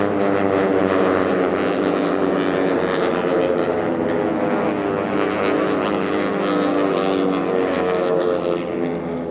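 T-6 propeller airplanes racing around pylons at the 2022 STIHL National Championship Air Races: a loud, steady, droning engine roar with rich harmonic buzz, sustained throughout with no talk.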